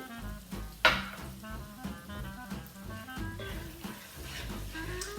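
Olive oil sizzling in a pan while cooking vodka chicken penne pasta, a soft steady fry with light stirring clatter and a sharper clink near the start, close and moderately quiet.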